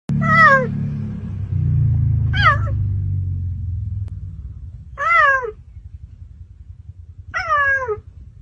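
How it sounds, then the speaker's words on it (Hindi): A cheetah brought from Namibia, held in a ventilated crate on light straw, gives four short, rising-and-falling cat-like chirping calls spaced a couple of seconds apart, loud and close over a low rumbling background. "अब जरा इस चीते की आवाज पर ध्यान दीजिए। इसकी आवाज बिल्ली जैसी है।"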